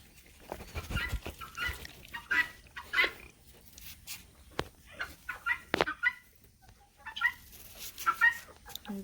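Chickens clucking outdoors on a farm where puppies roam among them, giving scattered short clucks and calls in irregular bursts at moderate distance, fairly quiet, with no talk.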